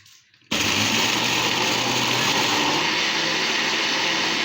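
A blender, which has a fault, whirs on abruptly after a brief quiet moment while blending mango ice cream mix, then runs at a steady loud high-pitched whine with no voices.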